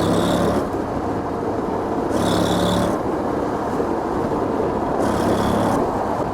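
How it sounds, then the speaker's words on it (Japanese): Honda X-ADV motorcycle engine held in sixth gear in automatic standard mode, droning steadily with a deep rumbling tone that swells in short pulses as the throttle opens and eases, loud and close, with wind noise and no voices. "ちょっと開けてみます。"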